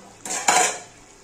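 A spoon scrapes and clinks against a pan while stirring chicken kosha curry cooked with potatoes, two short close metallic strokes with no talk.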